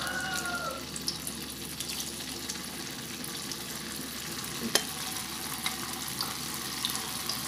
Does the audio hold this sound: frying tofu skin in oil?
yes